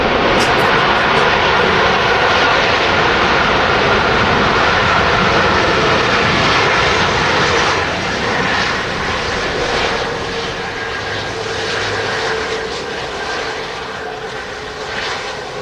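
Airliner engines roar steadily at Manchester Airport, a loud continuous jet rumble that eases slightly partway through.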